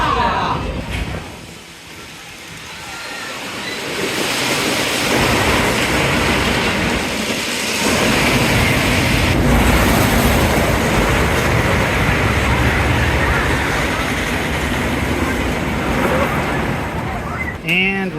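Riders aboard the Renegade wooden roller coaster at Valleyfair: a loud, continuous rattling roar of the train on the track, with a brief dip early on and voices shouting over it.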